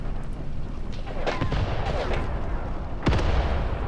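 Tank guns firing and exploding tanks, including a T-34, in the Graviteam Tactics war game: sharp booms and blasts break out over a rumbling battlefield background, one especially heavy report near the end, with a voice faintly present.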